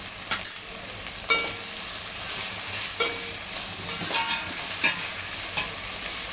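Whole spices such as cumin, cloves, cinnamon and cardamom fry in a pan for masala rice, giving a steady sizzle broken by repeated scraping stirs.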